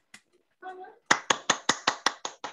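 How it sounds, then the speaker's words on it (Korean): A lecture audience claps in sharp, evenly spaced unison beats, about eight loud claps in a row, after a brief voice. "박수."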